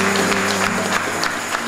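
A church congregation applauds in a dense, steady patter of clapping that fills the short moment, with no voices over it.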